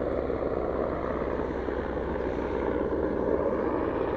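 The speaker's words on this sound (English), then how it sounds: "There's been a lot of helicopters today." A helicopter passes by, its rotor and engine making a continuous broad roar that holds fairly loud and steady, with no talking.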